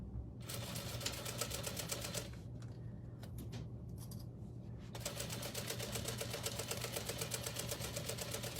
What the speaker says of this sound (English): And we're gonna sew this now with our 3/8 of an inch seam allowance.